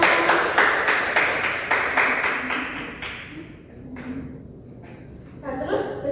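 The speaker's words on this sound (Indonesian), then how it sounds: "Tepuk tangan untuk semuanya." A class of students applauding together in a steady rhythmic clap that trails off after about three seconds, followed by some quiet shuffling and chatter.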